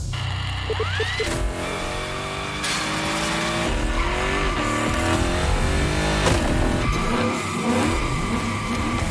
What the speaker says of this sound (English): Yeah, that's what we call victory donuts.